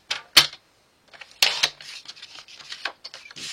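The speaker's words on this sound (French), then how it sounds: "Allez, on coupe à 20, c'est ça. Mon massicot." A paper trimmer slices card for a handmade album, giving sharp crisp cuts and clicks in irregular bursts with short gaps between, close and fairly loud.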